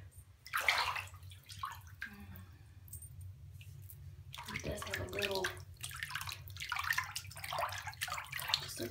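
Tap water runs into a bathtub being filled for a bubble bar bath, giving a steady, close rushing and splashing flow with shifting texture and a low rumble underneath.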